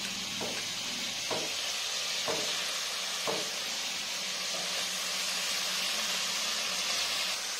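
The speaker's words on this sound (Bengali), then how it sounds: "এরপরে ভালো করে কষে নেব আলুটা মশলার সঙ্গে" Cubed potatoes sautéing with a cooked spice masala in a pan for a prawn and chhena curry, giving a steady hiss with several sharp clinks and scrapes of a spatula against the pan at intervals.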